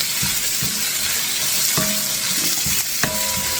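Marinated chicken dropping into a hot pan for a chicken and broccoli stir-fry, with a steady close sizzle and a few sharp clanks and stirring scrapes of utensils against the pan.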